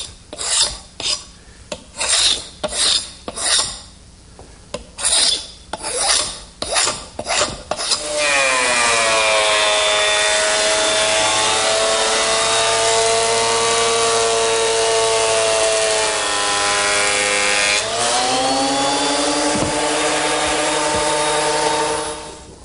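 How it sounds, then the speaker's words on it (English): Wooden butcher block blanks are worked by hand with short rasping strokes in an uneven rhythm, then a 12-inch surface planer runs loud and close, a sustained whining machine roar that shifts pitch briefly near the end. "just wide enough to fit in a 12-inch surface planer, which is where I want to go next, smoothing up the top and bottom surface"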